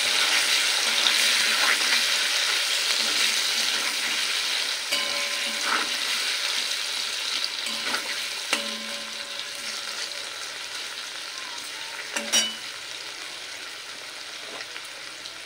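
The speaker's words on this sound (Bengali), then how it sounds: "এবার পনিরটা ভেজে নেব।" Paneer frying in a pan for a shahi paneer dish, a steady bright sizzle throughout with occasional stirring clicks and spatula scrapes, close and continuous, no talk.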